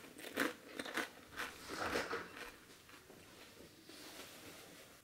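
Someone munches on crunchy guacasalsa, a homemade avocado salsa, with a handful of close, crisp bites and chews that fade into softer chewing.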